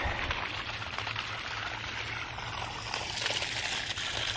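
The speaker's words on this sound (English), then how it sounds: "This is where I'm gonna drain my water tanks here. So we'll just let all that run down the ditch back down to the creek." Water drains from storage tanks into a ditch that runs down to a creek, giving a continuous rushing trickle close by, even in level and with no voices.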